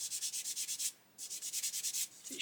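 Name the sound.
sander sanding an Airfix Sea King model kit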